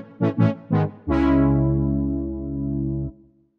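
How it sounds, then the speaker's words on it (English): Three short synth brass stabs, then a long sustained brass-like chord that holds for two seconds before cutting off cleanly. "trying to create a nice brass patch"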